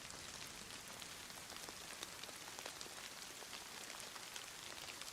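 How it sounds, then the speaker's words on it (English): Steady rain pours down in the survival game DayZ, a dense, even hiss of countless drops with scattered sharper patters, continuous and fairly quiet with no voices. "Here comes the rain."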